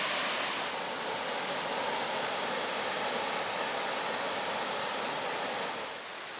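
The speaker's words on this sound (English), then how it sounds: "And we have one more waterfall to check out, and it's right here" Waterfall in the Porcupine Mountains near Lake Superior, a steady broadband rush of falling water heard close and continuous, easing slightly at the very end.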